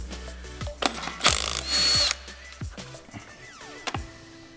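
Power tool work on a car drivetrain during a twin-disk clutch upgrade, with several short loud bursts of an impact or drill motor spinning on bolts, close by, between clanks and rattles.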